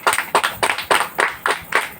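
A church congregation claps loudly in quick, rhythmic bursts, about eight sharp claps in a fast steady beat, close and alone.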